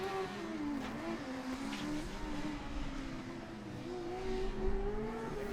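Race cars circle a track in the closing laps of the first group's session, engines droning steadily with a rising and falling pitch throughout, moderately loud and continuous with no talk.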